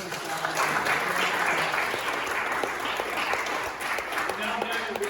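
An audience gives a big round of applause for city staff at a ward rural summit workshop, steady dense clapping throughout, close and full, with no talking over it.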